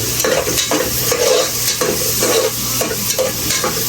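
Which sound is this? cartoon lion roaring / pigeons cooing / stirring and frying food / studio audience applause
stirring and frying food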